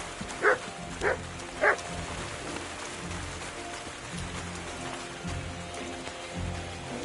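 A dog in Kingdom Come: Deliverance II gives three quick, sharp barks early on, then soft rain patters steadily in the background, all fairly quiet.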